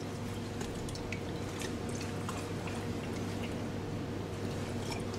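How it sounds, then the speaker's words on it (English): Sodium sulphide solution being mixed in a lab gives faint liquid swirls and small drips and clicks over a steady low background hum, with no voices. "mix this solution to dissolve the sodium sulphide"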